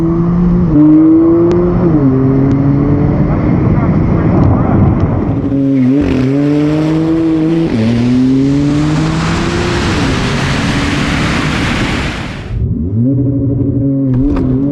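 A car launches at a drag strip with its tires spinning. A loud engine revs and shifts pitch, and broad, hissing tire noise swells for several seconds over the engine. A voice is heard faintly beneath it.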